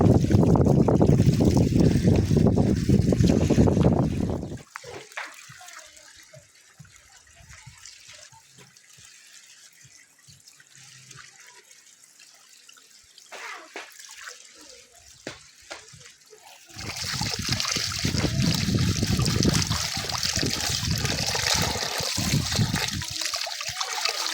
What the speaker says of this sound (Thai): ทั้งลมทั้งฝนนี่